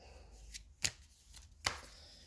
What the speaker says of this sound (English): Give it an old shuffle.